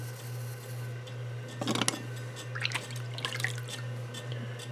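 Water drips and trickles off a hand-built clay cup as excess water is removed during throwing, a few short wet bursts of dripping over a steady low hum.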